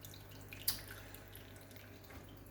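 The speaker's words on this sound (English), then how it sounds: "So all three together return over this waterfall." Water spills steadily over a stonework waterfall in a planted aquarium, a faint continuous trickle with one brief drip-like splash.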